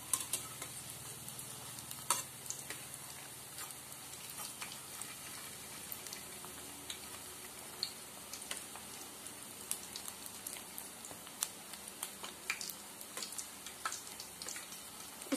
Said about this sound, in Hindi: इस तरह से पलट पलट कर इसे तलना है।